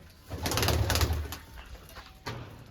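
Pigeons coo in a low, throaty burble close by, a longer rolling call followed by a shorter one, with a faint flutter of movement.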